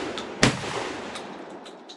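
A single sharp shotgun blast from an SDS Imports AKSA S4 cracks outdoors at a range, followed by a short decaying echo and faint clatter.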